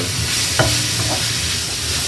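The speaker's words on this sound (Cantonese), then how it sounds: "其實佢牛膀咧都好容易熟嘅啫，只不過係其實佢裏邊都好多水嘅，所以要慢慢煎佢，" Burdock root stir-fries in a wok, a steady close sizzle with a brief scrape of the spatula partway through.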